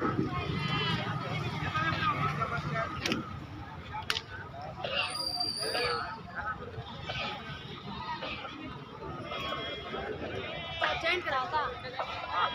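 Goats bleat at a busy weekly goat market in Bhadradri Kothagudem, scattered calls rising now and then from the herd beneath constant chatter and bargaining voices of traders and buyers.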